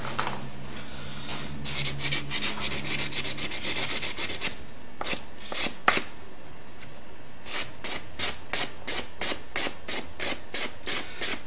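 Hand sanding of a tube for a mobile 50 MHz antenna, with steady rasping strokes that turn into distinct, evenly spaced back-and-forth rubs toward the end. The sound is close and clear, with no talk.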